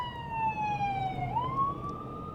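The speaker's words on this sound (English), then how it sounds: "We have a pickup truck, or a truck rather, blocking the road and an ambulance coming at us at the same time." An ambulance siren wails toward a car on a road blocked by a truck, a clear, fairly faint tone sliding down and then back up in pitch over a low road rumble.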